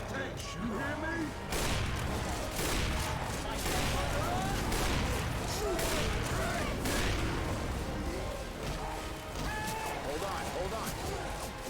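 Gunfire aimed at a tank in a zombie shooter game: dense, continuous volleys of shots and crashes roar throughout, with players talking over the chaos.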